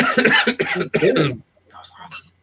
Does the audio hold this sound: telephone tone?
no